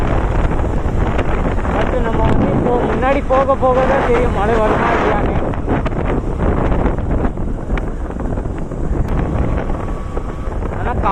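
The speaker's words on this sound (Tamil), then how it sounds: "காற்று ரொம்ப அதிகமாக அடிக்குது காய்ஸ்" Strong wind buffets the microphone outdoors, a constant loud roar and rumble as someone talks over it throughout.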